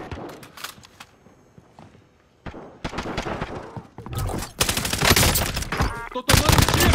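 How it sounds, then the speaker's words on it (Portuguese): Rapid bursts of gunfire in a multiplayer shooter video game, starting sparse and quiet then building into loud, dense volleys near the end. "Tô tomando tiro!"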